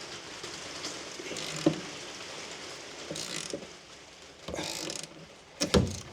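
Screw stripping out while being removed from Ford Ranger Raptor bed parts: a few short, scattered grinding ratchet bursts between quiet stretches, close and fairly faint.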